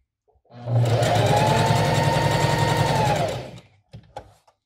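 A domestic sewing machine runs a wide zigzag stitch in one continuous burst of about three seconds, a close, loud rapid whirring hum. A few soft clicks follow after it stops.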